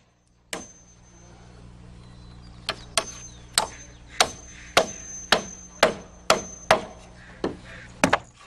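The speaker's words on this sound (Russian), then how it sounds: "Затем два гвоздя для крепления задней части распорки." Hammer strikes driving nails into a rafter brace while framing a house roof, about ten sharp, close blows in a steady rhythm after a single opening hit, over a low hum.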